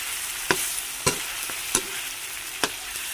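Tofu stirred in a frying pan: a steady sizzling hiss broken by four or five distinct scraping strokes of the utensil.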